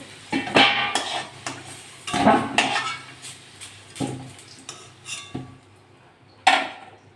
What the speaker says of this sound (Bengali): আলুগুলো তুলে নিচ্ছি